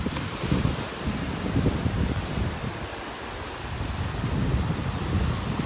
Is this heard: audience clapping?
no